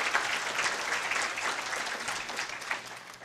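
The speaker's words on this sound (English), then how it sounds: "Let's give them a round of applause." Audience applauding the planning committee at a Cumberland County Legends event, a steady, dense wash of clapping from a crowd that holds level throughout.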